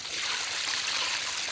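Plain water pours steadily in a soft, hissing stream into a cooking pot of onion, green chilli and chilli paste for mutton chukka, close and continuous for a brief moment with no voices.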